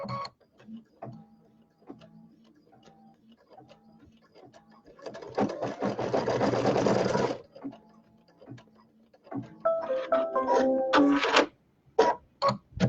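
An embroidery sewing machine stitches a quilt block in bursts of rapid mechanical whirring, with quiet ticking between runs and short sharp clicks near the end.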